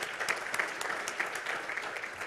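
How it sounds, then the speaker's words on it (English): Clapping from a conference audience for an event sponsor, a steady and fairly faint patter of many hands that continues evenly without any voices. "we'll clap for them anyway"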